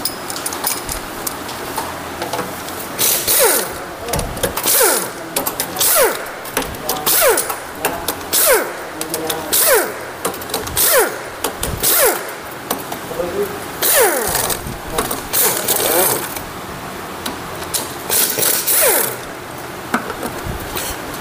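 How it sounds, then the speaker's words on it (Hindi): Chamber bolts being loosened on a Passion Pro BS6 110 engine, with repeated ratcheting clicks and metallic turns in irregular bursts, close up, alongside intermittent talking. "उसके बाद इसके हम चैम्बर के सबरे बोल्ट खोलेंगे दोस्तों।"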